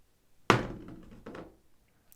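Dice rolled on a tabletop during a solo game of the Star Wars: The Clone Wars board game: one sharp, close thunk followed by a softer second clatter as they settle, with no voices.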